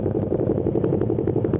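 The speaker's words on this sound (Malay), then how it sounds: "Kita panaskan enjin dulu." A motorcycle engine idles steadily as it warms up before a group ride in Sarawak, a continuous close rumble with a fast, even pulsing beat and some light mechanical clatter, with no voices.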